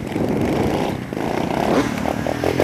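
A motorcycle engine runs loud and close, holding a steady buzzing drone with slight rises in revs, alone without any talking.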